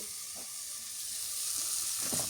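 A paste of ground onion, chili and garlic fries in a pan for village-style khichuri, giving a steady close sizzle and hiss with a few faint stirring scrapes and no talk.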